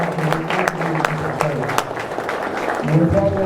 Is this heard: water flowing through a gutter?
no